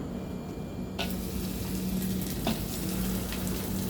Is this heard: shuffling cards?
no